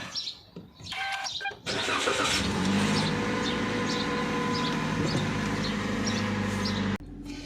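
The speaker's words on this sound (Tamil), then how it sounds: "ஓகே வண்டியை வார்ம் அப் பண்ணிடுவோம்" A car engine cranks and catches, then settles into a steady, loud idle that runs on continuously, with faint birdsong in the background.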